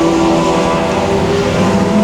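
Front-wheel-drive four-cylinder race cars, a Ford Focus and a Dodge Neon, race at Boothill Speedway, their engines droning in a loud, steady roar without letup.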